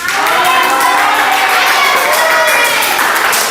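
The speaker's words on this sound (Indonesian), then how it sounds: "bertepuk dulu untuk kelompok 1." A classroom of students claps for a presentation group, steady dense applause filling the room loudly for a few seconds.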